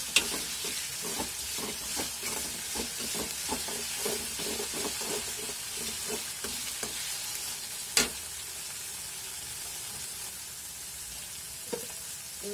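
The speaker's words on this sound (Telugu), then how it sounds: "ఎర్రగడ్డ వేగిన తర్వాత మనం అల్లం వెల్లుల్లి పేస్ట్ వేసుకుందాం." Onion and ginger-garlic paste frying in a pan for a chicken leg curry, a steady hissing sizzle with a series of regular stirring scrapes early on and a couple of sharp utensil clicks, no talk.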